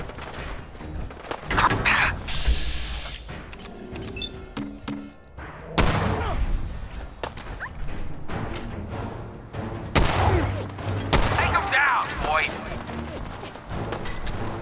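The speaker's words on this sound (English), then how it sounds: "Whoa, who is shooting me?" Bursts of gunfire and heavy thuds from the video game Fallout 4 at East City Downs racetrack, several loud volleys and impacts spread across the span with quieter gaps, a player's voice exclaiming between them.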